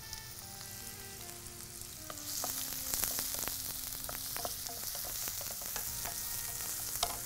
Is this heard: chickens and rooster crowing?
no